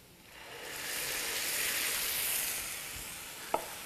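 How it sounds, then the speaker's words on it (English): Garlic and tomatoes sizzle in a pan for a quiche, a steady loud hiss that swells and then eases, ending with a single small clack, and no voices. "I'll add some garlic to the pan and just cook that briefly, and then add the tomatoes from the processor"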